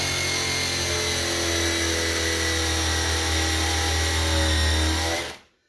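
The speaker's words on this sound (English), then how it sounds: "I'm going to start with that paddle bit again just to start my hole" A power drill with a paddle bit bores a hole into a cedar chest, a loud, steady high-pitched whirring drone close by that runs for about five seconds before spinning down and stopping.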